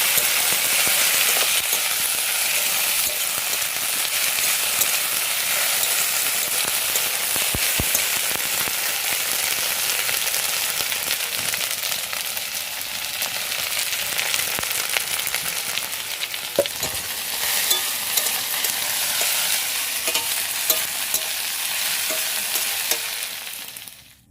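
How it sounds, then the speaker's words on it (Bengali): Okra (dhenrosh) fries in a pan with a dense, even crackle and hiss that holds for the whole stretch, with an occasional faint tap, close and steady, with no talking. "ঢ্যাঁড়সটা আমি ভাজতে বসিয়ে দিয়েছি।"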